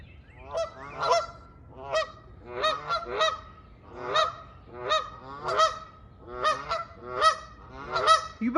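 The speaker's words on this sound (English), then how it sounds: "Freaking geese on my roof." Geese on a house roof honk repeatedly, about a dozen loud nasal calls in uneven pairs and triplets, fairly close, with no talking.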